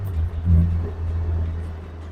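A 2011 Morgan 4/4 Sport with a 1.6 Sigma engine is heard from inside as a low, steady engine rumble that swells briefly, with no clear speech over it.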